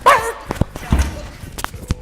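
A dog gives a few short, sharp barks and yips, up close and mixed in with a voice talking nearby.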